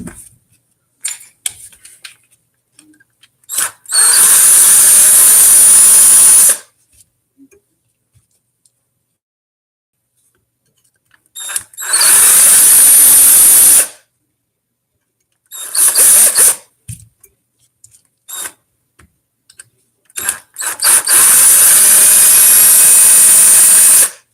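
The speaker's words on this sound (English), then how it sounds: "There's 3 screws that hold on the transfer case cover. So undo those first." A power driver undoes the three screws on a transfer case cover during drivetrain repair, in four loud whirring bursts of a few seconds each, separated by quiet stretches with small clicks and handling noises.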